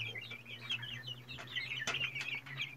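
Young chickens eat feed while clucking and peeping softly and continuously at close range, with overlapping chirpy calls from the small flock.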